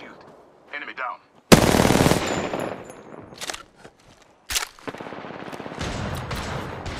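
Gunfire in the video game Apex Legends during arena mode on PS5, loud bursts of rapid automatic shots with gaps of quieter movement and footsteps between them.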